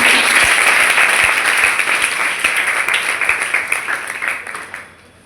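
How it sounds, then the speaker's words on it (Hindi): A crowd at an NCC wing World Habitat Day event at a women's college claps for first-year cadets, loud, dense applause that gradually tapers off and fades out. "तो पहले इनके लिए तालियां होंगी"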